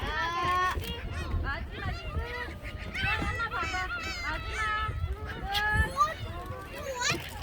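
Seagulls at Mokpo Peace Plaza, a seaside square, squawking and calling repeatedly in a lively, overlapping chorus close by, with people talking and outdoor bustle underneath.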